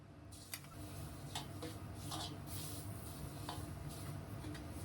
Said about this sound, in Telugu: డేట్స్ పేస్ట్ ని కూడాను మంచిగా నెయ్యిలో ఫ్రై చేసుకున్నాను లో ఫ్లేమ్ లో